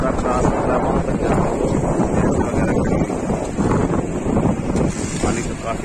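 Loud, high-pressure flood water rushes across a broken road in a continuous roar, heavily buffeted by wind noise on the microphone, with a voice talking over it.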